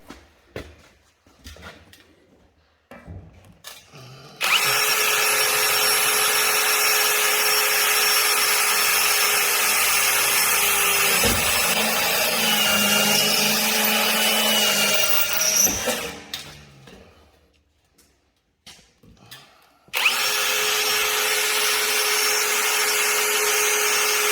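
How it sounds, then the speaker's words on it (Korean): A power drill bores 14 mm bolt holes through a metal cable tray in two loud, sustained bursts, separated by quieter handling clatter and ending briefly before starting again. "트레이 볼트 구멍을 타공할 때 보통 14mm 홀수를 사용합니다."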